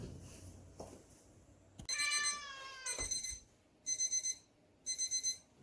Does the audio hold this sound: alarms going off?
yes